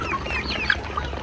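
Chickens on a poultry farm, with several short high clucks and chirps over a low steady background hum.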